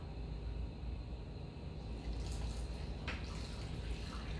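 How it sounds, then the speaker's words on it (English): Broth poured into canning jars packed with ground beef and lamb, a steady liquid trickle and splash running continuously, closer and brighter toward the end. "Let's get started with adding the broth."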